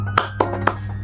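A classroom group does the Indonesian "tepuk semangat" spirit clap, three sharp, evenly spaced claps standing out clearly over a steady low hum.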